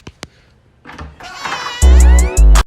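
A train door whines strangely, with a couple of sharp clicks, then rising tones that end in two loud, warbling, bleat-like bursts at close range.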